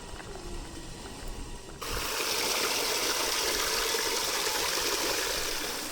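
Running water from a tap at a Zambales campsite, left on to fill a container, starts abruptly and continues as a steady, close rushing splash.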